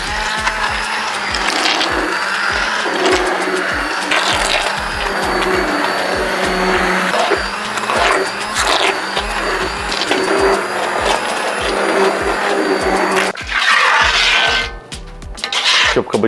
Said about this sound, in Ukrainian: я озброївся погружним блендером, і зараз вся ця овочева маса перетвориться на кабачкову ікру.